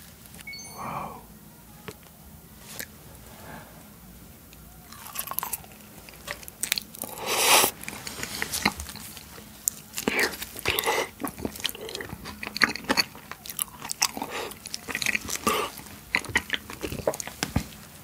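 Close-up chewing of raw honeycomb topped with tapioca pearls and whipped cream: sticky, wet bites and crunchy waxy smacks, irregular and intimate, with soft breaths between.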